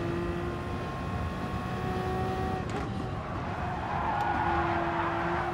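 A race car engine in Gran Turismo Sport holds a steady high-pitched whine, then shifts and rises again as it powers out of a corner, with tire noise underneath.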